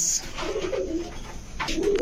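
Pigeons offered for sale as flying birds coo close by in soft, low rolling phrases, with a brighter burst of calling toward the end.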